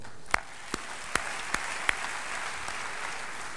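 Applause from an award ceremony audience, with sparse distinct claps standing out over a faint wash of crowd clapping at moderate distance.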